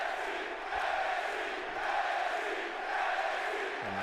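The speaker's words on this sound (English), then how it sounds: "And the crowd seems to like this main event." Arena crowd in the WWE 2K22 wrestling game fills the space with a steady, dense roar of voices and cheering, holding at a constant level with slight swells, distant and unbroken.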